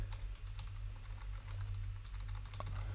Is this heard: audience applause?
no